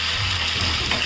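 Onion, garlic and curry leaves sizzling in dal for a red chutney to go with idli and dosa, a steady close crackle and hiss with a low bubbling undertone.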